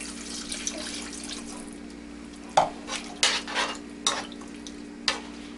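Water sizzles softly in a hot pan while a utensil scrapes and knocks against it in several irregular stirring strokes.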